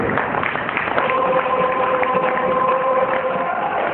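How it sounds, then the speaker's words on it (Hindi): Loud, dense applause from a crowd at a gold company's closing function, held steady for about four seconds with a faint tonal hum running through it. "मुकेश जी के लिए जोरदार तालियां दिल खोल के।"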